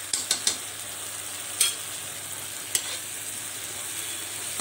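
Food frying in a pan after a small spoonful of Schezwan chutney is added, a soft steady sizzle with a few sharp spoon scrapes and taps, close and fairly quiet with no talking.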